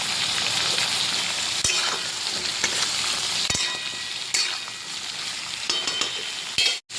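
Vegetable stems and prawns frying in a pan, a continuous close sizzle punctuated by sharp scrapes and knocks of stirring, ending in a louder clatter.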